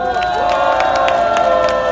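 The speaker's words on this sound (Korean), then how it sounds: "이명진님과 박은원님에게 따뜻한 박수 부탁드립니다." A crowd at an outdoor Korean presidential campaign rally on workers' rights cheers steadily and loudly throughout, with a few scattered claps and sustained tones ringing over the noise.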